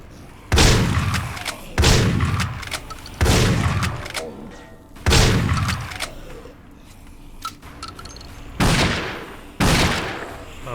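Gunfire sounds in the first-person shooter Dead Effect on Hell difficulty. Six loud, booming single shots ring out at spaced intervals, each decaying into a short reverberant tail, with quieter clicks and metallic rattles in between.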